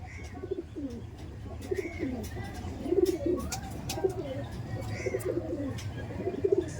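Pigeons coo repeatedly in soft, throaty rolling phrases, several birds close by, with faint chirps and light background noise.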